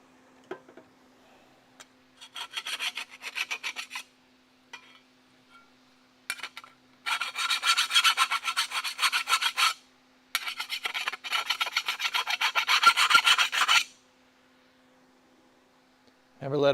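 A hand file rasps a burr off the cut end of a steel frame rail in a workshop, in long rhythmic strokes that come in loud bursts separated by pauses, close up over a steady low hum.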